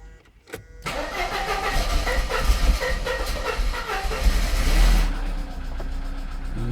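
A Mercedes-Benz 124 T-Model estate car's engine cranks and catches, then settles into a loud, steady idle close by, with a rough mechanical rattle running through it.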